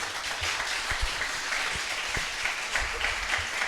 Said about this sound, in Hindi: वाह, यहाँ तो ताली बनती है।